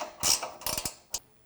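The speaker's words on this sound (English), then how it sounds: "grab a 13mm ratcheting wrench. Tighten those guys down." A 13mm ratcheting wrench tightens bolts on a Jeep Wrangler rear bumper, giving a few short bursts of quick ratchet clicks, close and crisp with brief pauses between strokes.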